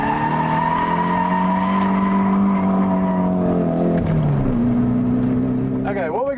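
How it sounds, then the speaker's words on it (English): Car drifting through a clutch-in, handbrake turn, the engine note holding a loud steady drone, dipping as the turn is made, then rising again, with tire noise throughout. "Turn in, push the clutch down, pull the handbrake."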